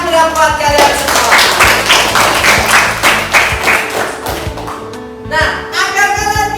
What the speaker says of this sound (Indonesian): Tepuk tangan yang meriah buat kalian semua.